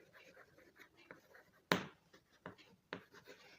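Quick handwriting during a math lesson, scratchy pen or chalk strokes in short bursts with one sharp tap near the middle, fairly quiet and close.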